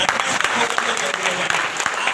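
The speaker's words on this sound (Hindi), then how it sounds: "अपने अपने माँ बाप के लिए जोरदार ताली" Loud audience applause rises in response to a call to clap for their parents, with dense continuous clapping filling the hall throughout.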